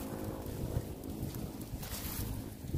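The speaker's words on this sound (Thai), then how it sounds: "เลยลมแรงนะลมแรงหน่อย" Strong wind blowing outdoors during cast-net fishing, a steady loud rush buffeting the microphone with low rumbling gusts, no voices.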